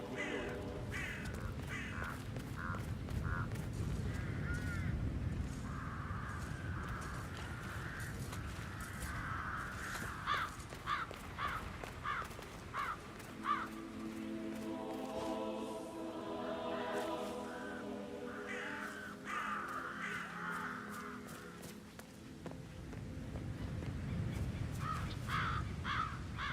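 Crows caw again and again in a rough, uneven series of harsh calls, loud and fairly close, with some overlapping and no talk over them.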